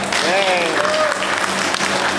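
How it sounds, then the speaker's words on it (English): A crowd on a Mount Rushmore and Needles Highway outing claps steadily for a couple of seconds, with a voice heard briefly over the applause. "Let's give Owen a round of applause for being so brave"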